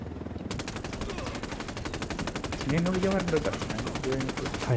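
Rapid automatic gunfire rattles in a steady stream from Ghost Recon Wildlands game audio during a base attack, joined by tonal electronic effects and a voice partway through.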